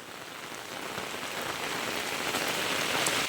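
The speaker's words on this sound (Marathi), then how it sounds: "पूर्ण वातावरण झालं आहे पावसाचं" Heavy monsoon rain pours down in a dense, constant hiss, drumming steadily on surfaces without a break, water pooling everywhere.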